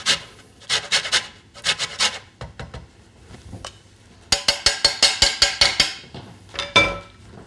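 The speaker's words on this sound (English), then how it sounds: "Grate the zest off." A lemon rubbed against a grater to take off the zest, in quick rhythmic rasping strokes that come in close, crisp bursts with short pauses between them.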